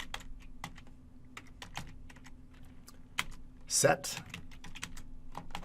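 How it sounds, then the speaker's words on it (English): Keystrokes on a computer keyboard tap out commands in quick irregular bursts, with a short louder flurry near the middle, fairly close and under faint room hum; a voice speaks briefly. "I type the info command and press enter to view the options available for this module."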